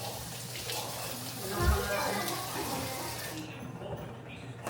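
Dishes being washed after dinner at a running kitchen sink in a home in America, with a continuous rush of tap water, occasional clinks and faint voices in the background.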